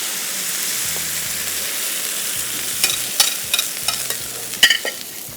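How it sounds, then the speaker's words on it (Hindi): Prawns and egg frying over high heat for a prawn omelette give off a steady, close sizzle, with sharper spatters and a few spatula scrapes in the second half. "ये देखिए, तेज़ आंच पे इसको फ्राई किया।"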